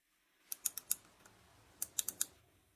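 Two bursts of four quick, crisp clicks from the small side buttons of a Gravastar Mercury M1 Pro gaming mouse, close up and quiet, separated by a short pause.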